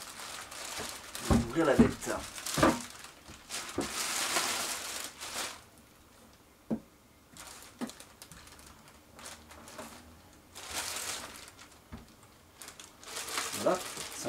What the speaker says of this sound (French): On va sortir de son plastique.